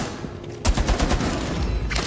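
Light machine gun fire in the Rainbow Six Siege video game, a rapid sustained burst of close, loud shots that begins abruptly after a short lead-in of faint game ambience and continues to the end.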